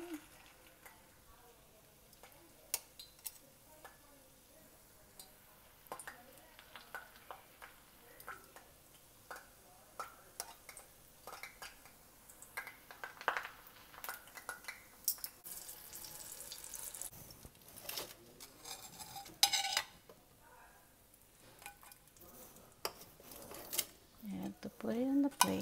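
Vegetable lumpia egg rolls, filled with pea pods, fry in a pan with a faint, steady sizzle. Pots, utensils and water clatter and splash intermittently, growing busier toward the end, and a voice speaks now and then.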